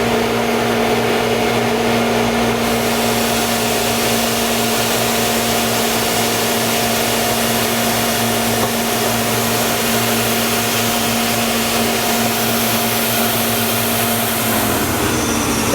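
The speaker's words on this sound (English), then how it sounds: "We'll go ahead and turn our blast wheel on." An IMPACTS S270E shot blaster's blast wheel runs continuously while blasting a concrete floor, giving a loud, dense roaring hiss with a steady mechanical whine underneath that holds unchanged for most of the time before shifting near the end.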